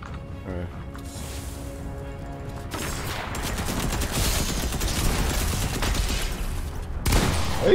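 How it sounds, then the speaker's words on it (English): Fortnite gunfire during a tense battle, with rapid overlapping shots and bursts clattering in a dense, loud barrage over chaotic game noise, with a loud blast near the end. "How the fuck is this guy seriously shooting me through all that rubbish?"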